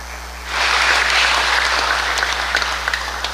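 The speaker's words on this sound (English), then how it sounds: "Can we give His Excellency President Simina another round of applause?" Applause from an audience at Kamorale Expo 2026 Bond Day for President Simina, beginning about half a second in and holding steady, dense and fairly close, then thinning slightly toward the end.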